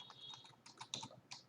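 Quick, light keystrokes on a computer keyboard at close range, a short irregular patter of clicks in a quiet setting with no voices.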